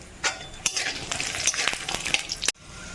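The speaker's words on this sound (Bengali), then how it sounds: "এবার দিয়ে দিলাম বাদামটাও ঘিয়ের মধ্যে ভেজে নেব" Peanuts fry in hot ghee with cardamom and cinnamon for sabudana pulao. A steady close sizzle is broken by sharp scrapes and clinks of stirring in the pan.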